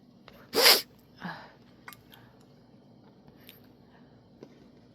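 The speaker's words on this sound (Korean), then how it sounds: "오늘 재채기가 너무 심한 날인데요." A single sharp sneeze bursts out close by during a tea preparation at home, followed by a softer second exhale, then a quiet room with a few faint clinks.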